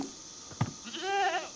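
A Minecraft Java Edition goat rams the player, a brief thump followed by a loud, wavering bleat, close and alone.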